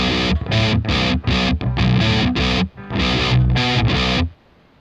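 Distorted electric guitar at medium distortion playing chugging chords in short bursts, loud and close, with brief gaps between phrases before it cuts off.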